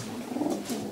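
A racing pigeon coos softly nearby, a short low throaty burble over quiet background.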